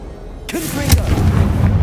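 A Confringo fire spell bursts in Hogwarts Legacy, a sudden bright blast at once followed by a rumbling, crackling boom and a low sustained roar.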